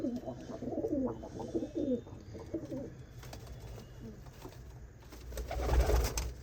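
Pigeons kept for sale coo in a series of low, throaty rolling calls nearby, the cooing strongest at the start and fading into soft rustles and handling noise later.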